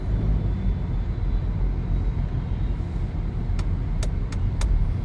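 Inside a moving car, a constant low road and engine rumble fills the cabin, steady and fairly loud, with a few faint ticking clicks near the end.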